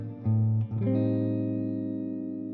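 A guitar plays a short descending passage from a song, a few clear picked notes stepping downward and then settling into a long sustained ringing tone, played alone.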